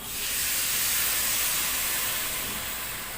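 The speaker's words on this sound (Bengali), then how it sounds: "এবারে জল দিয়ে দিলাম।" Water hisses and steams sharply as it hits a hot pan of hilsa fish curry spiced with turmeric, a loud sizzling rush that holds steady and fades slightly at the end.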